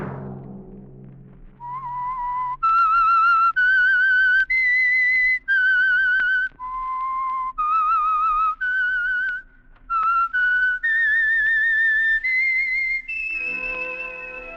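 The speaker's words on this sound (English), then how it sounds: "Let that whistle be your signal for the Signal Oil program, The Whistler" A lone whistler performs the signature theme of the 1949 radio mystery drama The Whistler, a clear, sustained melody of held notes with brief pauses between phrases, close and unaccompanied until a low orchestral chord enters at the end.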